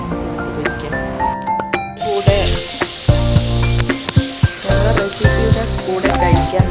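KFC-style marinated chicken frying in hot oil in a home kitchen, a bright sizzling hiss broken by sharp clinks and knocks of utensils, with bursts of music-like tones throughout.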